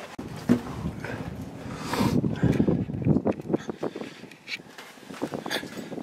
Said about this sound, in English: Sorry for any wind noise.